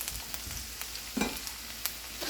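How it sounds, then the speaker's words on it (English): Purple onions and peppers sizzle in a pan of hot oil, a steady close frying hiss broken by a few sharper crackles and stirring knocks. "We're going to add in our onions here. I'm using purple onions. And our peppers."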